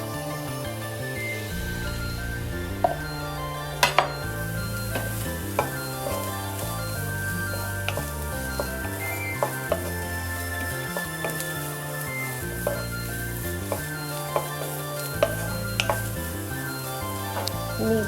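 Long carrot strips and round-cut green chili sizzle steadily in a hot pan for an egg and sweet corn soup, a continuous moderate frying hiss under background music.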